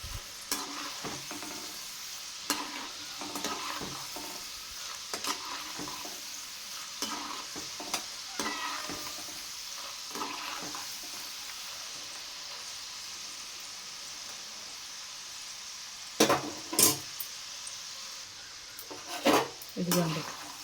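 Pakodas made from dried broad beans frying in a pan of oil, a soft steady bubbling sizzle with occasional stirring clatter and a couple of louder knocks near the end, with a voice talking over it at times.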